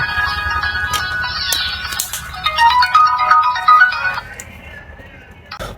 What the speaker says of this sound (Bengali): ফোনটির মূল আকর্ষণ যে রিংটোন আমরা রিংটোনটা একটু শুনবো